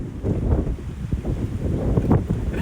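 Wind buffeting a microphone outdoors, heard as low, gusty rumbling that swells and dips unevenly, with no voices.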